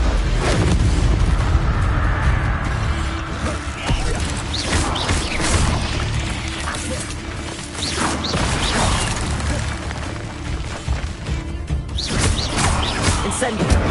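Incendio fire spell cast repeatedly in a Harry Potter video game on PS4, heard as a dense run of booming, crashing magical blasts over continuous game effects, with a voice calling out spell names.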